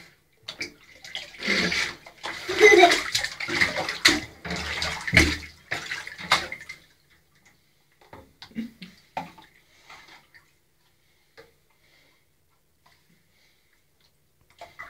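Running water fills a bathtub during a child's bath, splashing and gushing fairly close for several seconds before dropping to sparse drips and small sounds in near silence.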